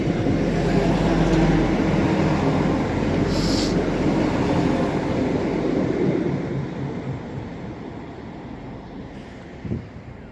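A Class 175 diesel unit, 175101, pulls out of Crewe toward Manchester Piccadilly with a steady engine and wheel rumble that is loud at first and then slowly fades, with some wind on the microphone.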